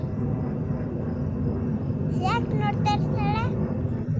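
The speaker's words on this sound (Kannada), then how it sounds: "ಏರೋಪ್ಲೇನ್ ಅದು." An airplane passes high overhead at night, a steady low drone that holds throughout, with a voice speaking briefly near the end.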